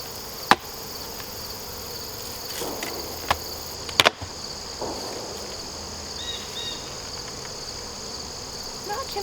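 Yellow jackets and honeybees buzz around an open beehive lid outdoors, a steady insect hum with occasional sharp clicks and knocks from the hive equipment.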